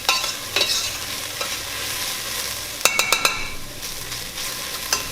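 Food sizzles steadily in a hot pan as it caramelizes, while a utensil stirs and knocks against the pan in a brief cluster of clinks partway through. The sound is close and no one speaks.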